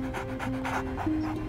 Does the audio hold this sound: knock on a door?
no